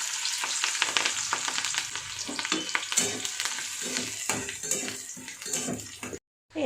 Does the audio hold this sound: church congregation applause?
no